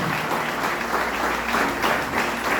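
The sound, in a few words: audience applause for the King of Kings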